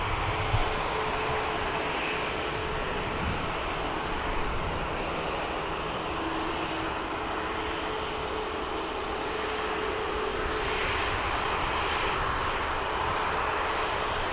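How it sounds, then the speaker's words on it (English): A blue ITA airliner with CFM engines taking an intersection departure at Manchester Airport gives a steady, broad jet-engine roar, loud and constant throughout with wind noise, no talking. "Next aircraft over here is going to take an intersection departure."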